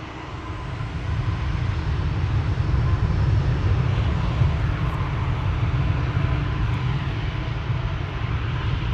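A KLM Embraer 175 at Amsterdam Schiphol Airport produces a steady, broad jet roar that swells slightly and holds, heard at a distance with no voices.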